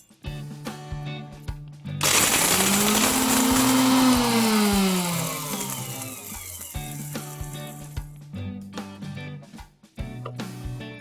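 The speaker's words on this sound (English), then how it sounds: "I'm going to make a nice fresh garam masala powder with some green cardamoms, black cardamoms, pepper, cloves, cinnamon and some black cumin seeds" A kitchen blender grinds green and black cardamoms, pepper, cloves, cinnamon and black cumin seeds into fresh garam masala. It roars loud and close for about six seconds, its pitch dipping and rising, between quieter rattling and clicking handling sounds.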